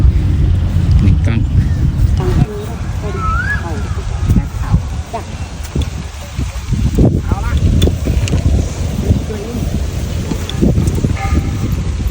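Strong wind buffets the microphone on a golf course, a constant loud roaring rumble throughout, with people talking over it.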